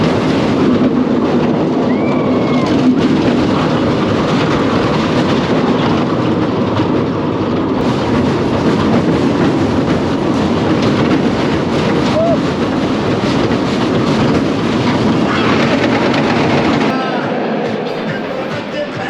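Scorpion roller coaster ride at Busch Gardens Tampa, a loud continuous roar of wind and rattling track noise from an onboard ride, sustained throughout before easing off near the end.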